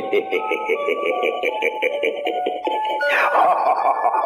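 A pocket watch plays a chiming melody of bright, evenly spaced bell-like notes, close and clear, with a brief shift in tone near the end.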